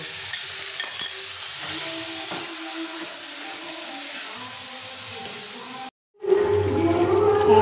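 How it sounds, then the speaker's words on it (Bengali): Loud, steady sizzling of marinated chicken frying in a pan with occasional stirring scrapes, a brief cut to silence, then the frying resumes louder. "এবার আমরা ম্যারিনেট করা চিকেনটা দিয়ে দেবো"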